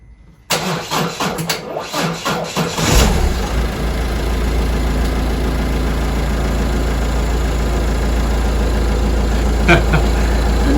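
On a drained battery a car engine cranks slowly for several seconds in uneven, labored pulses before finally catching, then it runs at a steady, rough idle close by, and no one speaks.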